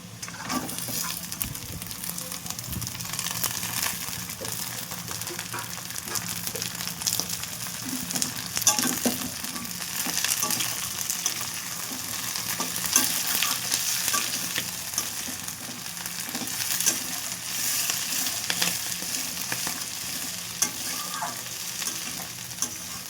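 Malabar spinach seed pods fry in a pan and are stirred throughout, giving a loud, continuous close-up sizzle with frequent scraping and rustling that lasts the whole stretch.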